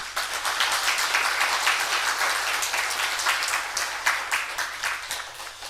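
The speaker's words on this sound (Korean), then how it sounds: "감사의 박수 한번 드리고" A church congregation claps together in sustained applause for the choir at a Sunday service, a steady patter of many hands continuing for several seconds before tapering slightly.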